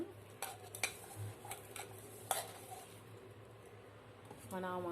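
Green chillies and chopped onions stirred together in a bowl for a coconut curd raita, giving soft irregular scraping and clinking taps spread across the stretch, with a faint low hum beneath.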